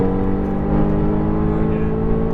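A Mercedes AMG GTR engine accelerating hard on a racetrack, a loud, dense, steady roar held at full throttle for a couple of seconds.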